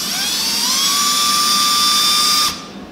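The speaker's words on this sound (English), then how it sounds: "So, drill's running in reverse," A power drill running in reverse spins at high speed against an RV's fiberglass body, a rising whine that holds steady, then cuts off abruptly and winds down.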